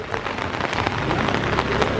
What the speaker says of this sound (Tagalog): Ang lakas ng ulan, bumabagyo.